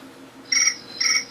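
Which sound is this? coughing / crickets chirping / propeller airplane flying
crickets chirping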